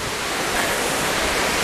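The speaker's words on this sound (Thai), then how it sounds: "นี่แหละน้ำตกตาดเยือนด้านหน้าของเรา" Tad Yuang waterfall near Pakse in southern Laos gives a loud, constant roar of falling water. The rush is close and fills the whole moment, with no voices.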